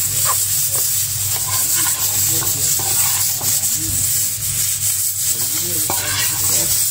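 Chickpeas sauté in curry in a pan while being stirred, with a loud continuous sizzle and hiss under repeated scraping strokes of a utensil, close and steady.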